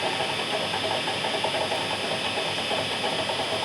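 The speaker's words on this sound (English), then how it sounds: "I'm hearing the gears" A milling machine's gearbox runs steadily on fresh oil after an oil change, giving a continuous loud mechanical whir and hiss with an even, unbroken drone throughout.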